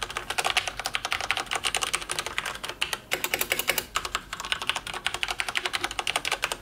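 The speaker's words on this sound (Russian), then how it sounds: "Переключатели здесь Cherry MX. Она механическая, я бы не сказал, что она прям такая громкая." Fingers type quickly on a Corsair K63 wireless mechanical keyboard with Cherry MX switches, producing a rapid, close stream of crisp clacking keystrokes with a brief pause midway, then continuing.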